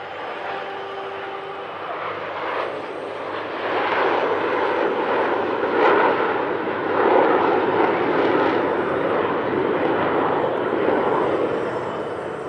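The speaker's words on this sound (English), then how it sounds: "And the final manoeuvre, drawing the largest Italian flag in the world" Italian Air Force aerobatic jets roar through a final flag-drawing manoeuvre at the Centenary Airshow, a loud broadband rushing thunder that builds after the first few seconds and stays strong to the end, with faint crowd murmur.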